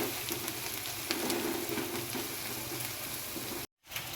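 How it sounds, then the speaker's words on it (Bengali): Chicken pieces for a roast frying in hot oil, a steady close sizzle with no talk that cuts out abruptly near the end. "রোস্টের মুরগি সব ভাজা হয়ে গেছে।"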